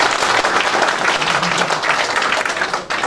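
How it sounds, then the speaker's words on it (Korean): Loud, close applause fills the room at the opening of a National Assembly candidate's campaign office, a dense crowd clapping continuously with a slight dip at the very end. "정말 우리 모두 힘찬 박수 한번 부탁드리겠습니다"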